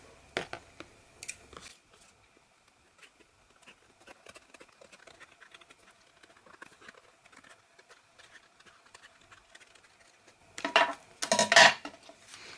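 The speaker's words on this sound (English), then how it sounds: "Okay, so now I'm going to cut around this." Scissors cutting around a paper frame in a papercraft project with alcohol ink, heard as faint, sparse snips and paper rustles, ending in a louder burst of crinkling paper handling.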